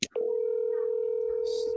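A steady telephone dial tone hums after a brief click at the start of a call, continuous and fairly loud through to the end.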